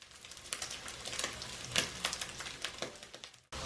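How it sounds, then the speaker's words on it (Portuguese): Bacon slices fry in a pan, crackling and popping steadily up close for a few seconds before the sound cuts off abruptly. "Eu vou deixar aqui fritar bem"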